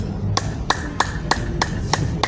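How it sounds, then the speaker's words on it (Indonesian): Seven sharp, evenly spaced claps, about three per second, stand out over a steady low background hum. "tepuk tangan karena sudah ditahan"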